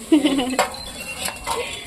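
A spoon stirring roasted chickpeas in a metal pot, heard as a few quick, close clinks and scrapes in a short burst.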